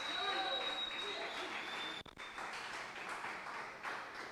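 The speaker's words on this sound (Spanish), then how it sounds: "Demos el aplauso fuerte al Rey bendito, con gritos de júbilo" A church congregation claps steadily and loudly, a dense wash of applause with cheering voices mixed in, briefly dipping before continuing.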